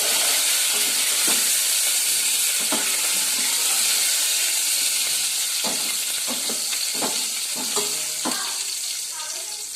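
Garlic, cumin, mustard seeds, dried red chillies and curry leaves frying in hot oil for a South Indian charu tempering give a loud, steady sizzle and hiss, with scattered pops and a few faint utensil clinks.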